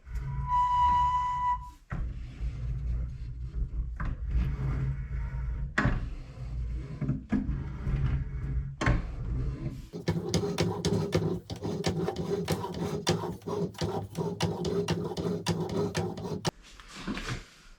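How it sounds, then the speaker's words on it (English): A steel back plate for a resonator guitar is rolled back and forth through an English wheel in a workshop, giving a steady, scraping metallic rumble that runs in long passes with brief clunks and pauses between them. "I'm going to throw this thing in this English wheel now and just see what kind of curve it makes"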